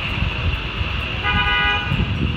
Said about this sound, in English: That's a cop car.